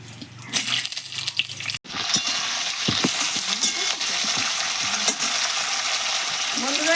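Flat beans and spring onion shoots hit hot oil seasoned with black cumin and sizzle loudly, with a steady close crackle, stirring scrapes and a brief clatter as they go in.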